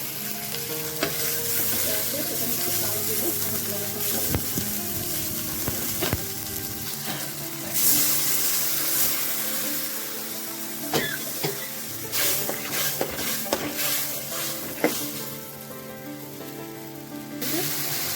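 Chili powder and turmeric sizzling in hot frying oil for a Bengali fish dish, a steady crackling fry with stirring clatter and a few sharp spoon scrapes and knocks, no talking.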